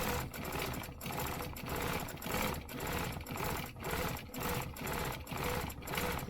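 A sewing machine stitches a zigzag stencil pattern in a steady, rhythmic whir, its motor rising and falling in regular pulses about every half second, close and continuous throughout.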